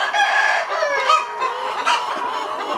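A Tiger breed rooster crows and hens cluck on a chicken farm in Mymensingh, with loud, close calls overlapping through the whole stretch and no voices.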